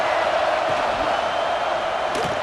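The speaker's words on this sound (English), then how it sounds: "This crowd bringing the energy and noise early." Steady, dense stadium crowd roar from a college football video game, a continuous wash of cheering and noise holding level throughout with no pauses, a few faint thuds and a brief brighter swell near the end.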